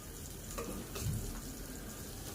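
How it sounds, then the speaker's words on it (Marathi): Bombay duck (bombil) fish fries crisp in hot oil, making a low, steady sizzle with a faint swell of bubbling near the middle. "अशा पद्धतीने सगळे बोंबील आपण छान क्रिस्पी तळून घ्यायचे आहेत"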